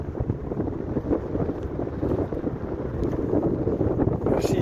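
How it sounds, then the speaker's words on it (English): Wind gusts buffet the microphone near Kincardine Bridge, a low, rough, continuous roar rising and falling throughout with no talking. "Got a bit windy now."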